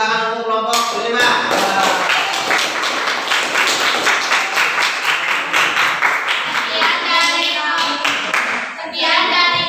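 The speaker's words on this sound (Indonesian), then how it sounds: "Tepuk tangan untuk kelompok 5." Classroom applause for a student group, a burst of many hands clapping quickly and irregularly, fairly close, with voices heard around the start and end.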